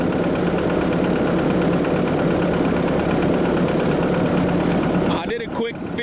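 A Caterpillar 308 excavator engine idles steadily and loudly for about five seconds with a constant low rumble, then cuts off abruptly into brief clatter and quiet near the end.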